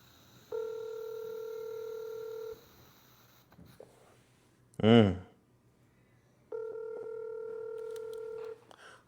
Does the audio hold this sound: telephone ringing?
yes